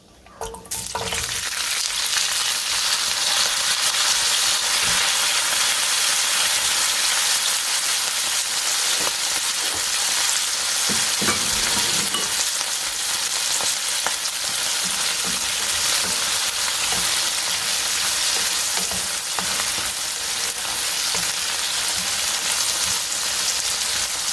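Flat beans frying in hot oil with red chilies, a dense, loud, continuous crackling sizzle like heavy rain, with occasional faint stirring knocks under it.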